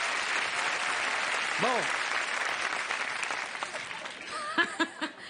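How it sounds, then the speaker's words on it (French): Studio audience applause on a French TV game show, a dense wash of clapping that fades toward the end as a voice speaks briefly over it. "On peut l'applaudir"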